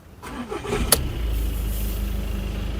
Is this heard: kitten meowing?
no